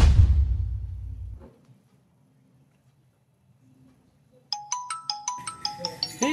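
Mobile phone ringtone from an incoming call, a bright repeating electronic melody that starts abruptly after a low rumble fades to near silence, looping with regular beats.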